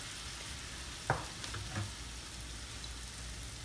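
A steady soft sizzle of two tablespoons of water added to a hot pot of bread dough, with a couple of brief clinks near the start, quiet and close.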